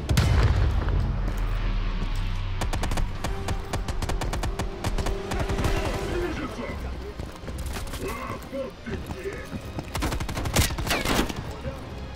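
Rapid gunfire and grenade blasts in Call of Duty Black Ops Cold War, sharp repeated bursts crackling over a rumbling battle, with a voice talking over the fighting.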